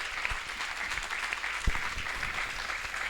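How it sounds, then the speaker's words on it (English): A public-forum audience applauds the speakers with steady, moderate clapping from a roomful of people, a few louder claps and thumps popping out near the middle. "one round of applause to all the speakers"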